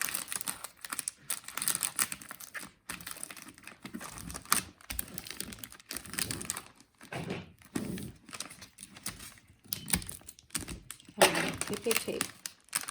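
Wrapping paper folded and tucked around a gift, close crinkling and rustling in uneven bursts with brief pauses, a voice speaking at times over the paper sounds.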